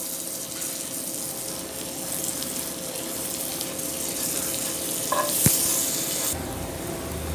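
Pav bhaji fries in butter on a street-food-style pan, giving a steady, close sizzle with a faint scrape and clink as it is turned over. No one speaks.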